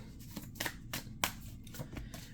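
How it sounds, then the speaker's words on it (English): Tarot cards are shuffled in a series of quick, crisp riffles and snaps, irregular in rhythm and close by, with no talk over them. "she talks kind of slow while she's doing all of her shuffling"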